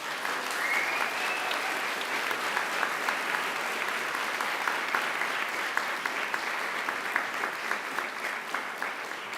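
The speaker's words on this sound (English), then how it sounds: "now I invite you to give them a mighty round of applause" Sustained applause from a graduation audience fills a large hall, dense steady clapping continuing evenly throughout with no voices over it.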